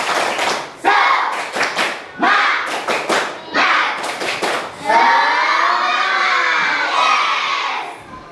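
A classroom of children doing a rhythmic clap chant, with bursts of claps and shouted syllables in groups, then a sustained loud cheer and shouting near the end.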